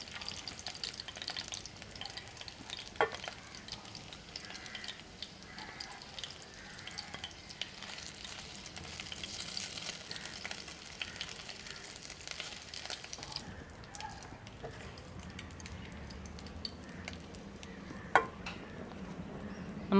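Pieces of chicken fry in hot oil with a steady, bright sizzle and crackle, with occasional stirring and light utensil taps in a quiet kitchen.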